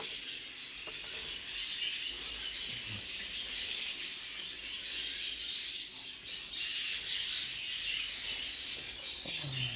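Budgerigars chirp and chatter without a break in a dense, bright flock, a steady twittering wash that stays close and loud all the way through.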